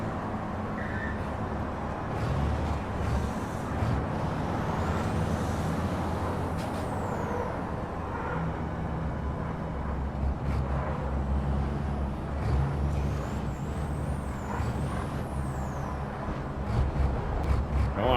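A semi truck slows down during ETRC truck racing on PS5, its engine droning loudly and steadily while air brakes hiss and tires rumble throughout, with no voices present.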